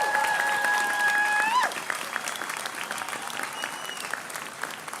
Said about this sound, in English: Can you give one last round of applause to all the people who put this up today?